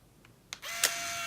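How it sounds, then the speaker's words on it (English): An Instax Mini 9 instant camera fires its shutter with a sharp click, followed by a steady whirring hum as the motor ejects the print, close and alone. "I'm going to take the picture. I'm going to push the shutter."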